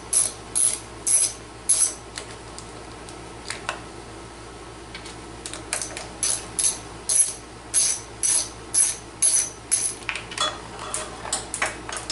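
A ratchet wrench removing a carburetor, clicking in repeated short bursts of rapid pawl ticks at a steady rhythm, close and fairly loud, with no talking.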